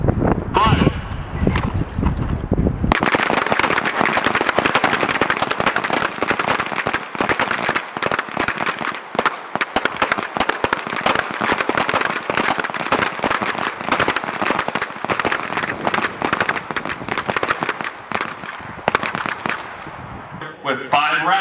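Rapid pistol shots at a U.S. Army small arms shooting competition at Fort Benning, Georgia, a long dense string of sharp cracks from several shooters on the line, loud and close, with brief talk at the start and end.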